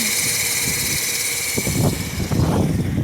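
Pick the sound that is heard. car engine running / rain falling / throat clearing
car engine running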